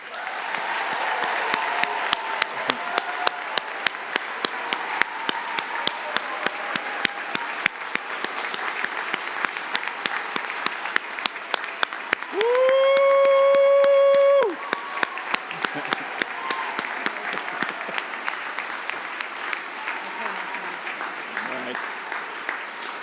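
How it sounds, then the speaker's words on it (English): A large audience applauds new medical students at a school of medicine white coat ceremony, a sustained wash of clapping that runs throughout with a brief tonal sound rising through the middle. "please join me in applauding these new student doctors"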